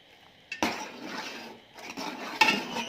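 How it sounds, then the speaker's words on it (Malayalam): Nannari syrup is stirred in a pot so it does not stick to the bottom. A spoon scrapes against the pot in a few short bursts, close by, and one metallic clink comes near the end. The pot otherwise simmers quietly. "നല്ലോണം നമുക്ക് അടിയിൽ പിടിക്കാതെ ഇളക്കി കൊടുക്കാം."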